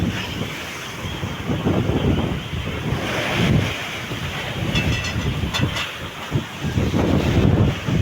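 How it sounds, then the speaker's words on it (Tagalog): Big ocean waves with whitecaps roll and crash continuously in rough weather at sea, a broad rushing roar with wind buffeting the microphone throughout. "parang lumalaki na ang mga alon"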